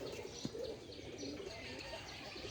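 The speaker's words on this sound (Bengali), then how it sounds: "এখন যে সাদা কবুতরটি দেখছেন, এই যে এটি হচ্ছে গিরিবাজের" A white male Giribaz pigeon coos softly in low, rolling calls, faint and close, with no talking.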